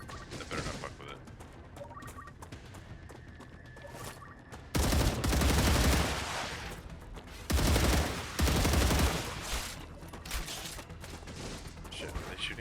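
Gunfire in a video game, heard as several loud, dense bursts of shooting in the middle of the stretch over a steady background rumble, with quieter ambience before and after.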